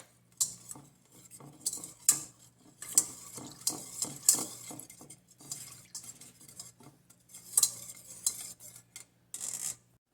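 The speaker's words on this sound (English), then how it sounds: "And now we're going to put the mung bean starch inside here. And mix it." Mung bean starch being mixed in a bowl with a utensil, giving a run of close, uneven clinks and scrapes with brief pauses and no voices.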